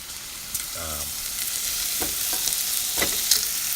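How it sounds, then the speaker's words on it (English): Sausage and bacon render together in a pan at a glamping camp, a steady soft sizzle broken by a few sharp clinks and scrapes of a utensil. "So I'm actually going to throw this right on top of the bacon, render it all together."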